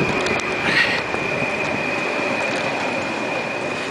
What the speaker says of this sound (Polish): Wstawiamy nasz pociąg, który nas przewiózł do Koluszek